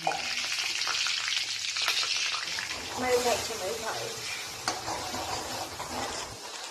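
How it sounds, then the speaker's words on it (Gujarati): Hot oil sizzles and crackles steadily in a pan for tempering pav bhaji, close by, with faint stirring noises and quiet talk now and then. "અહીંયા વઘાર કરવા માટે તેલ મૂકી દીધું છે"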